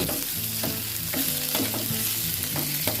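A gourami fish stir-fries in a pan, a loud, continuous sizzle with rhythmic scraping strokes of the spatula, close up and without voices.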